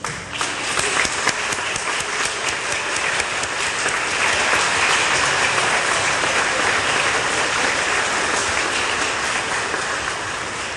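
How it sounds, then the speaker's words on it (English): An awards-ceremony audience gives a sustained round of applause for the parents and family members in attendance, a dense, steady wash of clapping filling the full ten seconds at even loudness. "we want to give you a round of applause"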